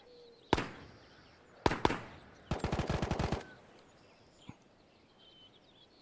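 Gunfire in the video game Ghost of Tabor at a distance: a single shot, a quick pair, then a rapid automatic burst, followed by a faint lone report, with no talk.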